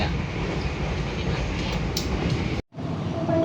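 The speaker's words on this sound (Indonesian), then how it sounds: "Perjalanan kereta api Jakarta tiba di stasiun Sragen," A Jakarta passenger train arrives at Sragen station with a continuous broad rumble and rolling rail noise that holds steady, then cuts out briefly before resuming.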